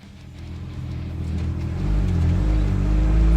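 The engine of a 1977 Chevy C10 pickup, fitted with a Monojet one-barrel carburetor, drones and climbs in pitch as the truck accelerates down the road, running rough. The sound is loud and close, rising steadily, with no one talking.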